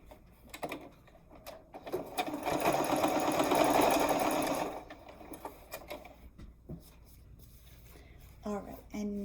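A sewing machine stitches the bottom piece of a messenger bag with an adjustable strap in a steady fast whirring run lasting a few seconds. Scattered handling clicks and fabric rustles come before and after it, with speech picked up faintly.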